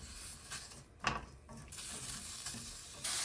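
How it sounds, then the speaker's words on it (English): Minced onion softening in a hot pan gives a quiet, low crackling sizzle, with a brief scrape of stirring partway through and a slight rise in hiss at the end. "we're going to let this cook for 3 minutes or until the onions are translucent"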